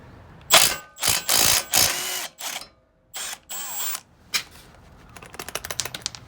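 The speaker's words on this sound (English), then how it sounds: "now we're gonna go ahead and take our lower ball joint off" A ratchet removes the lower ball joint nut on a 2001 Lexus RX 300, sounding as several loud, close bursts of fast clicking separated by pauses and ending in quicker, lighter ticks.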